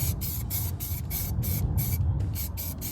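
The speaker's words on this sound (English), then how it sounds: "I could then start coating up with some fresh silver spray paint." Silver spray paint sprayed onto Ford Escort engine parts in short, rhythmic bursts of hissing, about ten quick pulses with brief gaps between them, close and steady.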